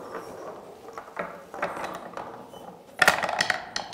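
Draw balls for a university football championship group stage, rattled and clattering together in a container, a steady close tumbling that turns louder and busier near the end.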